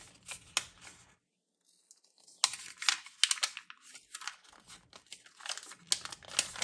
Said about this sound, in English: I'm going to peel the backing away